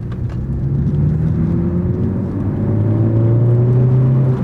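A stock 2018 Ford Focus ST engine accelerates hard on a race track, a loud continuous rising drone with steadily climbing pitch that fills the whole stretch without any talk over it.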